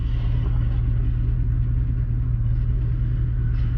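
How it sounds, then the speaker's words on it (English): A big wheel loader's engine runs steadily while loading triaxle dump trucks, a heavy, constant low rumble with a droning hum and no pauses. "That's a big wheel loader."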